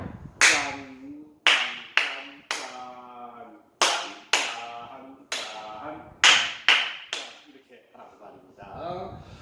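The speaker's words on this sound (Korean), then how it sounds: "먼저 손뼉 리듬 한번 봐볼까요?" A dozen sharp hand claps strike in a steady rhythm, loud and close, each ringing briefly, with a voice speaking in short rhythmic bursts between the claps.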